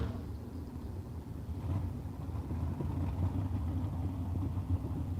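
Drag racing cars at Empire Dragway, including a Roadster and a Corvette from Canada, give a steady, low engine rumble that holds at a constant level throughout, with no sharp launch.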